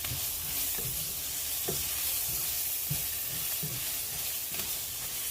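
Garlic sizzles in a pan for Mexican rice, a continuous bright frying hiss with soft, rhythmic scrapes of a utensil stirring every second or so, no voices.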